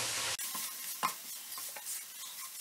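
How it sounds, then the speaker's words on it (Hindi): Corn meal being stirred and roasted in a pan while cooking mustard leaves curry, a steady dry scraping sizzle with occasional spoon knocks against the pan, close and continuous, with no talk. "अब हम इसे इसके साथ भुनेंगे"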